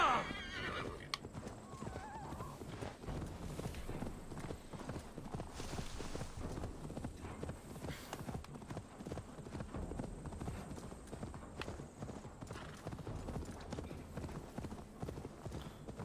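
A horse in the Assassin's Creed Valhalla video game clops its hooves steadily over the ground and lets out a whinny, with a faint low voice underneath at times.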